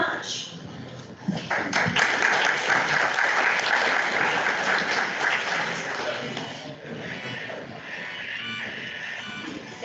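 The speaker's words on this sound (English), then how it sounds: "Let's give them a round of applause." An audience at a spring development day opening plenary on stress, trauma and wellbeing applauds the staff, steady crowd clapping that swells early then eases slightly, with a faint voice mixed in beneath.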